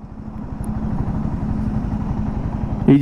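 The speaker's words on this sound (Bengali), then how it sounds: "এইবার কিন্তু ইঞ্জিনটা স্টল করছে" A Yamaha XSR 155 motorcycle engine lugs in third gear at low speed, giving a loud, close, uneven low chugging that ends in a sudden sharp stall sound.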